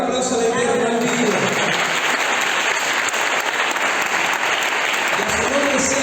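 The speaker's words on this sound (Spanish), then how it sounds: "Regálame un aplauso de Dios en el vídeo." Applause from a church congregation fills the room, a dense steady clatter of many hands lasting throughout, with a voice speaking over it at the start and end.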